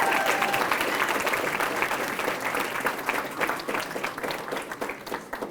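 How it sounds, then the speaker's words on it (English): Loud, sustained applause from a banquet audience at an Elks awards dinner honoring a student recipient, many hands clapping densely for over five seconds and easing slightly at the end. "Let's clap it up for Lydia Peace."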